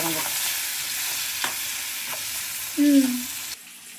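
Curry leaves fry in hot oil for mushroom biryani, a steady close sizzle with a few stirring scrapes, a brief voice near the end, and a sudden quieter stretch at the very end.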